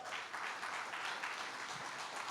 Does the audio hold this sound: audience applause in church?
yes